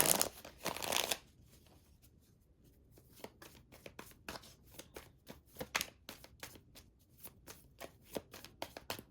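Tarot cards being shuffled by hand, a burst of riffling at the start followed by a steady series of crisp, quiet flicks, close up with no talking.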